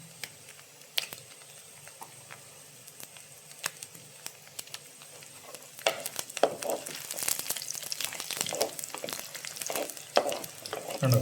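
Split dried red chillies sizzling in hot oil in a pan, a soft steady hiss at first that swells into louder crackling and spattering, with sharp pops scattered throughout and no voices.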